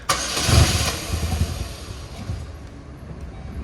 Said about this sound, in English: you get your Malibu key, and you go to start it